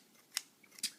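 Kitchen scissors cut through a paper template for a model railway platform kit, two crisp close snips about half a second apart over near silence.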